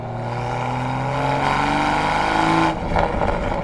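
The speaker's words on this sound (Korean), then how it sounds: "다운시프트 할 때 근데 팝콘이 짧고 굵다." Toyota Supra with a tuned exhaust revving hard, a loud rising engine roar that cuts off into short crackling pops on the downshift, heard up close.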